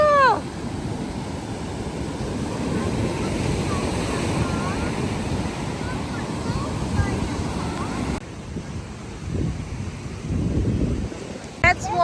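Ocean surf and wind on a beach make a steady broadband roar with buffeting gusts against the microphone, while children and an adult talk intermittently over it.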